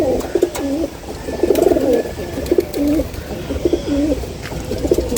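Pigeons in a loft, some of them molting, coo close by in a series of repeated rolling phrases, with brief pauses between calls over a light background.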